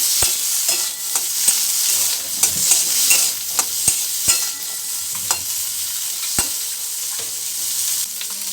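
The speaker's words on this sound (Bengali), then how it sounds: "এই তেলে ওই কেটে রাখা আলুগুলো এবার ভেজে নেব" Cut potatoes frying in mustard oil in a wok, a steady bright sizzle punctuated by sharp metallic clinks of a spatula stirring, close and loud with no talking.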